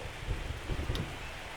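Rain falls in a baseball video game, MLB The Show 25, a soft steady hiss with low rumbling bursts, faint and continuous with no voices.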